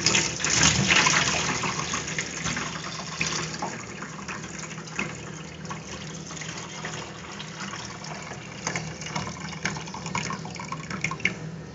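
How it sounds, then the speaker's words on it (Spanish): Liquid from steeped rose petals is filtered to make rose water, a continuous soft trickling and dripping with small splashes, steady and close throughout. "Vamos a filtrar el extracto para obtener así el agua de rosa"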